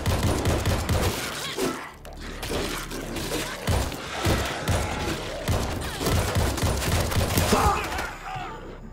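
Gunfire in a video game shooter match: dense, rapid bursts of automatic fire and heavy impacts that pile on top of one another almost without a gap, loud and busy throughout.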